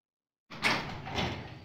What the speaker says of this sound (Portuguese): Agora a porta está destrancada.